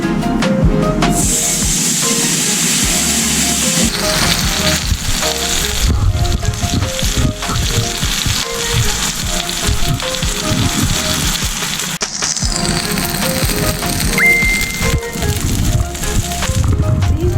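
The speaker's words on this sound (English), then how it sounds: "we're going to take our bread, which is soft from inside, and we're going to put it on our pan" Soft French toast bread frying in a greasy pan, a loud, steady sizzle and hiss close up that carries on throughout with brief shifts in intensity.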